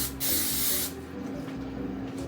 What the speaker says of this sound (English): And then so you just spray your pan.